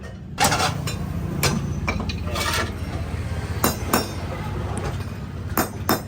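A handful of sharp metallic clanks spaced irregularly, like a hammer striking metal nearby, over a low background rumble.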